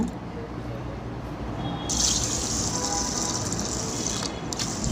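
Water is poured over lentils for cooking, beginning as a low trickle and then turning into a brighter, steady splashing stream that runs for a few seconds before it briefly fades.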